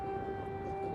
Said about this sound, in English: Sirens wailed over the skyline in Kyiv as Russian strikes on the Ukrainian capital continued.